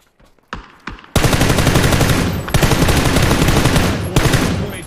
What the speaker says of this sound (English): A shot from town.